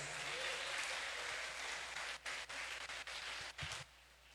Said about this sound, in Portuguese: Quem pode aplaudir a Jesus mais uma vez?